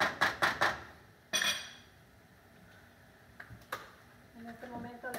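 Meat for chile con carne is stirred in a cooking pot, giving a quick run of sharp metallic clinks of a utensil against the pot, then quieter scattered taps over a low background.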